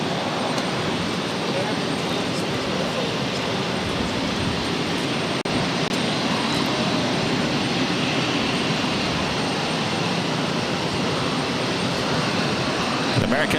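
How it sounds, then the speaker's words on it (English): A JetBlue Airways Airbus A220-300 jet arrives at Boston Logan, a loud, steady broadband engine roar sustained throughout without a clear rise or fade. "This arrival is JetBlue Airways 516 coming in from Buffalo on the A220 300."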